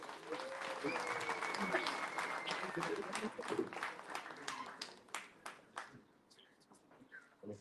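An audience claps steadily for the people who produced the product, a dense round of applause that thins into scattered individual claps toward the end, with faint voices underneath.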